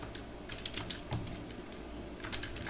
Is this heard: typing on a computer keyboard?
yes